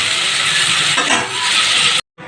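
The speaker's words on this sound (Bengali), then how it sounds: "এবার ভালো করে আবার কষিয়ে নেব।" Ground spices soaked in water are stir-fried in a pan for a Bengali fish curry. A loud, steady sizzle with scraping stirs runs throughout, then cuts out abruptly near the end.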